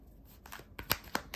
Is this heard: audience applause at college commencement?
no